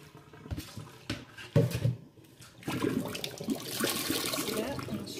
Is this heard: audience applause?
no